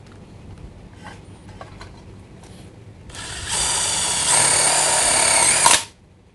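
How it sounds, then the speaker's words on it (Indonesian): DeWalt DCF922 impact wrench driving a screw into light steel framing: a few faint clicks, then a loud whirring run that grows louder mid-way and stops abruptly after about three seconds, no voices. "Pada saat impact berbunyi, kita harus melepaskan trigger."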